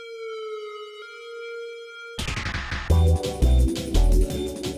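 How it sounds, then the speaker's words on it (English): A wavering siren-like tone sustains alone, then drum and bass drums and layered music crash in beneath it, building into a loud, busy mix. "I also added some kind of siren weird sound"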